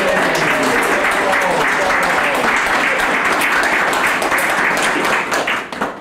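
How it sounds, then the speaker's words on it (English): Loud, dense audience clapping at a poetry slam as a judge rises to be recognised, sustained evenly for several seconds before tapering off at the very end. "I'm going to ask them each to rise and receive your applause as they are announced"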